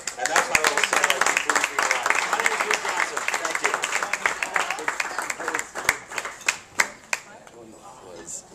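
An audience at a close-up magic show claps and applauds steadily, then the clapping thins out into a few scattered, louder claps near the end.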